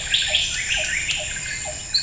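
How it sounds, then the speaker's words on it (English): A bird calls in the Borneo rainforest, giving repeated high chirps and whistled notes at a steady pace over a constant insect-like hum, fairly close and clear. "A bird?"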